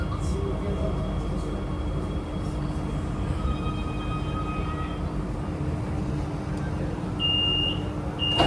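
Chengdu Metro Line 7 six-car A-type train running between stations, a steady loud rumble of wheels and motors with faint tonal whines and a brief chime near the end.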